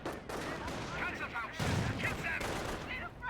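Battle gunfire in Company of Heroes crackles in repeated bursts and single shots, with a heavier boom midway, while a voice talks faintly underneath.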